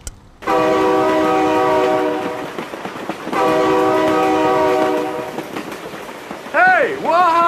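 A train horn in the BeamNG Drive driving game blares in two long, loud blasts as the train passes, with a rumbling rail clatter beneath and an excited voice shouting near the end.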